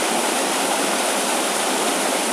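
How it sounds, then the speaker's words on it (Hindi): A forest stream in a village near Mukteshwar runs full of water, giving a steady, loud, close rushing roar with no pauses. "ये गधेरा जो बह रहा है इसमें पानी"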